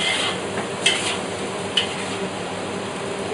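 Prawns, chili and herbs being stir-fried in a pan, giving a steady close sizzle with a couple of sharp clinks and scrapes from stirring utensils against the pan.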